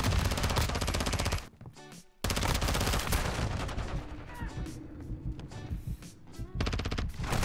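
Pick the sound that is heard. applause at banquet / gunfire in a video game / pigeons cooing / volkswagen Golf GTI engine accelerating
gunfire in a video game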